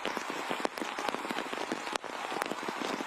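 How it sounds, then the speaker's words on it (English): Torrential rain pours onto a football pitch during a UEFA Youth League match between Chelsea and Malmö FF, a dense, steady patter with sharp crackling drops and occasional louder splashes throughout. "It will take this sort of torrential downpour."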